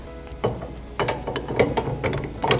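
A Fastway FLASH ball mount is locked with a key, producing a few close mechanical clicks and ratcheting clunks over a low background.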